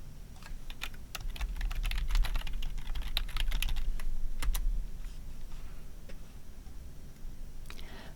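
Rapid typing on a computer keyboard for about five seconds, close and steady, then a few scattered keystrokes over a faint room hiss.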